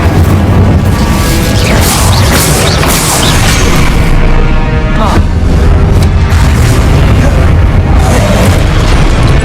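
Spell explosions from Confringo and Incendio blasts in the video game Hogwarts Legacy, a dense, loud, continuous barrage of booms and bursts with sharp cracks throughout and game voices shouting over the din.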